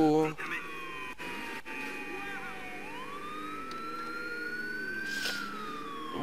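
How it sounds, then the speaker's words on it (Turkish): A police siren passes outside, its wailing tone rising and falling faintly in the distance over a steady background hum. "Bu arada dışarıdan da bizim ambulansta da polis gibi bir şey geçiyor."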